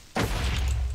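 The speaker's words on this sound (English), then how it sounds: "Oh, so many explosions" An explosion in the Calamity Canyon video game, one sudden loud boom with a dense rumbling tail lasting under a second.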